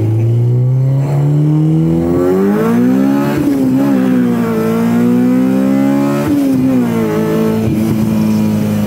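Honda EK hatchback with a K20 engine pulling hard through first and second gear, the engine note climbing steadily, dropping at each shift and climbing again, loud and close with no talking.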